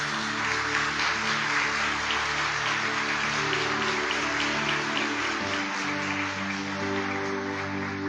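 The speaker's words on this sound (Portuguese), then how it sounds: "Vamos aplaudir a palavra de Deus" A church congregation applauds with steady, dense clapping filling the room, loud and sustained throughout, with a low tonal hum of music underneath.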